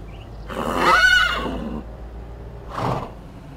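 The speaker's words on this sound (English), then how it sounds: "Because I'm hearing horses, so this is a sugar beets sales point." A horse in Farming Simulator 19 lets out a long, loud whinny with a falling tail, then a shorter second neigh after a brief pause, heard alone and up close.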